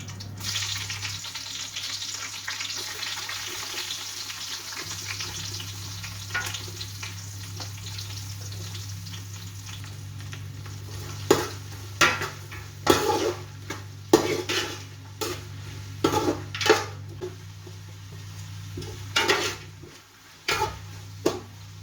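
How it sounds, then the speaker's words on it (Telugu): Shahjeera and thinly sliced onions fry in oil for chicken biryani, giving a steady sizzle with a low hum beneath, later broken by a run of sharp metallic clinks and scrapes from stirring in the pot. "ఇది ఫ్రై అవుతుండగా 1/2 టేబుల్ స్పూన్ షాజీరా వేసుకోండి."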